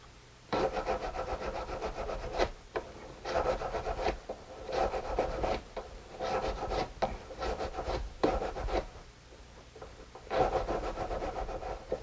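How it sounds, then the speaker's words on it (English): An emery board files and smooths the sides of a piece of jewelry at a repair bench, close rasping strokes in repeated bursts of varying length separated by short pauses, with no talking. "we're going to flush the sides and smooth them with our emery board"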